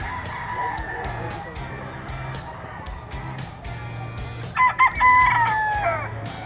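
Rooster crowing at a grotto, several clear crows heard fairly close amid other fowl clucking, with brief background voices and ambient noise.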